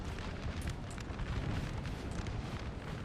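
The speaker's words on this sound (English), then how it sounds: "The artillery of the enemy is keeping us at bay" Enemy artillery in Napoleon Total War, with a dense, continuous rumble of distant cannon booms and battle noise rolling steadily throughout. No voices are heard.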